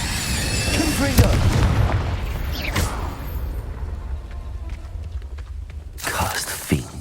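A blasting-spell explosion from a Hogwarts Legacy battle gives a booming burst amid rumbling game sounds, with a second sharp blast near the end.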